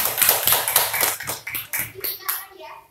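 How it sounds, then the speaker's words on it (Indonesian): A classroom group claps in applause for a student during a micro-teaching lesson, a dense run of close, sharp hand claps lasting about three seconds with light voices mixed in. "beri tepuk tangan untuk Mbak Puji."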